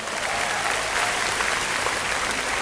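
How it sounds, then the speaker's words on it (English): Audience applause at a tenth-anniversary business event, continuous and full from a large crowd, a loud, even wall of clapping with no speech over it. "applause."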